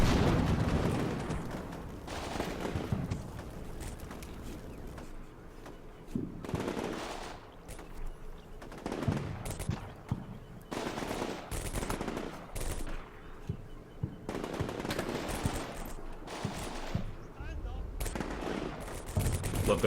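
Rifle grenades and small-arms fire crackle through a Combat Mission Shock Force 2 battle, with repeated bursts of gunfire and heavy thumps of explosions rolling over steady battlefield noise, fairly distant and dense throughout.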